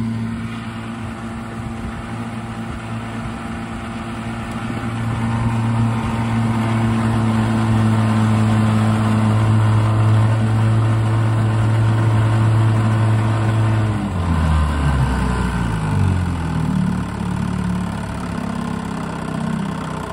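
Two 7.5hp outboard motors, a Mercury and an Evinrude, run steadily on a boat, a loud even drone that drops in pitch near the end as the throttle comes back to a low idle.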